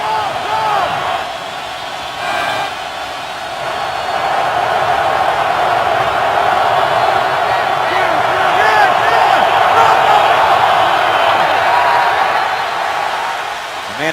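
Stadium crowd roaring steadily at an NFL game, Denver Broncos visiting the Kansas City Chiefs in 2015, a dense sustained wall of noise swelling slightly through the middle with no clear breaks.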